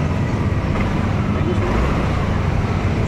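Yamaha Aerox V1 scooter engine idling smoothly after repair, a steady close-up low rumble with no misfire, even and unbroken for the whole span.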